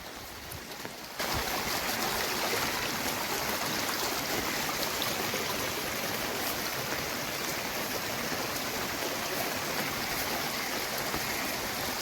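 Floodwater rushing steadily through a canal beside submerged paddy fields after a cyclone, a loud continuous broadband wash of flowing water close by, rising abruptly after a quieter first second and holding constant.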